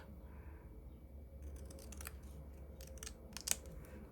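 Scissors trim paper envelopes and tags in a quiet room, a handful of short crisp snips clustered near the end over faint background hiss.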